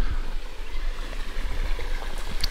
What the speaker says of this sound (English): Got Burden Falls Creek here.